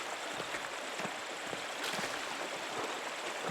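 Steady rushing water of a forest waterfall and stream in the video game Pentiment, a continuous broadband wash at moderate level with no talking.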